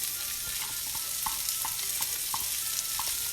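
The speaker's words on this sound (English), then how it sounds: "my bacon is crispy, and I'm going to add my onions" Onions going into crispy bacon in a skillet, a steady loud frying sizzle with scattered pops and light stirring clicks throughout, no talking.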